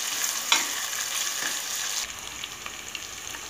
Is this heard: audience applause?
no